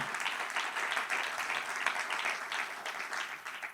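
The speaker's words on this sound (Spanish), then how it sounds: "Dale otro aplauso, claro que sí." Church congregation applauding during a sermon, a moderately faint, steady roll of clapping with slight swells, no talk over it.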